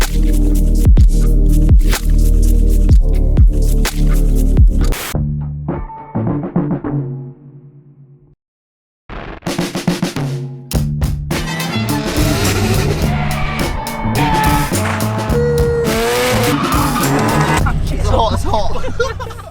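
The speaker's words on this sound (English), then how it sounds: "A couple of little revs." A BMW M3 F80 revs hard in short, throbbing bursts, loud and close, cutting out abruptly into near silence before roaring back with rough, raspy engine noise; people talk over it.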